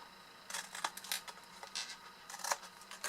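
Scissors snip through paper in quick, crisp bursts, cutting wedges for a folded paper box; close and fairly quiet, with short pauses between cuts.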